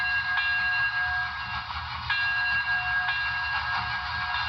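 A model steam locomotive's electronic sound system rings its bell steadily with repeated clangs, bright and ringing, sustained over a low rumbling background, from an HO-scale 2-8-0 Consolidation.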